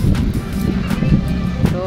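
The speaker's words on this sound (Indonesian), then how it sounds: "Udah banyak angin tuh." Wind buffets a microphone outdoors in a full mall parking lot at Kota Cinema Mall Jatiasih on an overcast, drizzly day, a loud continuous rumbling gust with faint voices underneath.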